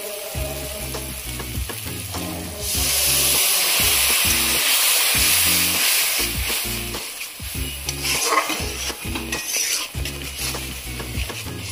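Water is poured into masala frying in oil for a pabda fish curry, setting off a loud, surging hiss over a rhythmic thumping in the background, followed by bubbling and a spoon clinking against the pan.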